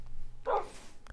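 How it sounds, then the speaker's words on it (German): A dog in the video game Minecraft yelps once when hit, a short sharp bark-like cry standing out against quiet background noise. "Jetzt habe ich den nächsten Hund geschlagen."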